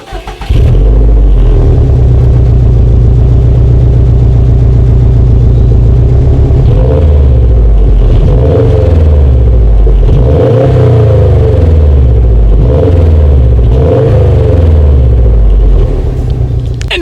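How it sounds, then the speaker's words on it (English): A 2018 Subaru WRX STI with a quad stainless steel exhaust idles with a deep, steady rumble, then is revved repeatedly in rising and falling bursts, loud and close with no talking. "here is that exhaust clip."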